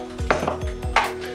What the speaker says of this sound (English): So I will start with basically chopping the soap up.